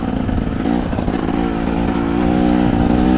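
A 2024 KTM 300 XCW TBI two-stroke dirt bike engine revs loud and close, a steady buzzing drone holding for the whole stretch with no talk.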